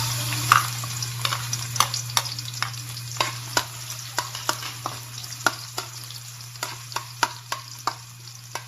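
Garlic for chicken adobo with potatoes sizzles in a pan over a steady hum, and a spoon clinks against the pan at regular intervals as it is stirred.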